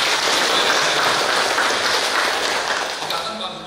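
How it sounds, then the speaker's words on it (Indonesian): A church congregation at a dedication service applauds, a thick, continuous hiss of many hands clapping, loud at first and gradually fading toward the end. "Tepuk tangan untuk masyarakat di"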